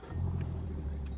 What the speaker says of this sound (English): and he's going to start the engine